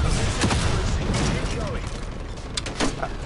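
Bursts of gunfire in the video game Black Ops Cold War, sharp shots crackling in quick clusters over a dense, noisy battle backdrop, with a player talking over it.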